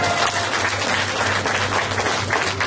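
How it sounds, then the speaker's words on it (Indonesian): An audience at a motivational talk on fortune bursts into steady, dense applause that continues evenly for nearly three seconds, with a low hum underneath. "Tepuk tangan dong."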